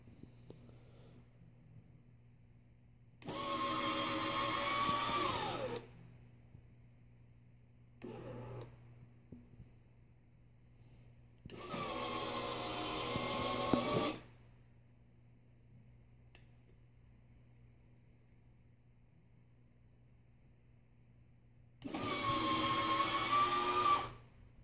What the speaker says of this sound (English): I really like the speed of this little motor.